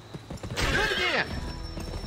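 A horse in the Western video game GUN is spurred into a sprint, giving a burst of hoof clatter and a loud whinny that cuts off abruptly, then softer background game sound.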